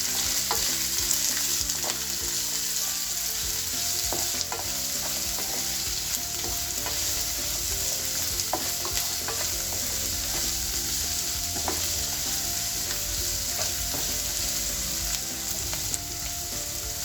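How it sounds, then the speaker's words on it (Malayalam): Chopped ginger, 8 to 10 garlic cloves and three sliced medium onions sautéing in a pan for chole masala, a continuous close sizzle with frequent stirring clinks and scrapes, no talking. "അത് 8-10 വെളുത്തുള്ളി അല്ലി, 3 മീഡിയം സൈസ് സവോള അരിഞ്ഞത്. നമുക്കിതൊന്ന് വഴറ്റിയെടുക്കാം."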